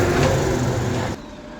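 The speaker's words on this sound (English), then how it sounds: "Noisy lorry going by." Noisy lorry passing along a town street, a loud broadband engine and tyre rumble close by that cuts off abruptly near the end, leaving quieter street ambience.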